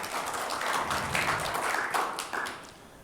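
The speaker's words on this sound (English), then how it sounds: "Can we have a round of applause," Conference audience applause at a cybersecurity event, a dense, steady patter of claps that stays fairly quiet and distant throughout and fades slightly at the end.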